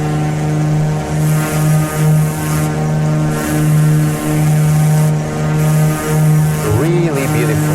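The propeller engine of a Carenado Mooney M20R in Microsoft Flight Simulator 2020 drones loud and steady with a pulsing beat, flying a downwind pattern near an airport and lake.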